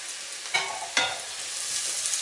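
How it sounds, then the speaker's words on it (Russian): Grated carrots frying with onion and garlic in a pan give a steady close sizzle, with two sharp stirring scrapes near the start and no talk. "Лучок нужно будет хорошенько обжарить"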